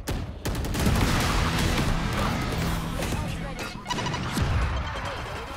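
A grenade detonates in a Valorant-style shooter amid overlapping gunfire and game effects, a dense, loud burst of blasts and crackles running for several seconds, with a voice speaking over parts of it.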